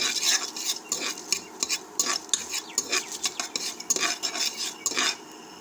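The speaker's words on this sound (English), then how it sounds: "Give a stir." A metal spoon stirs banana flower biryani in a cooking pot, with repeated scraping and clinking strokes in an uneven rhythm over a faint sizzle, close and clear with no talking.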